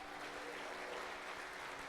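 A church congregation claps during a Thursday worship service, a steady, even wash of applause that holds at a constant moderate level for the full two seconds with no voices breaking through.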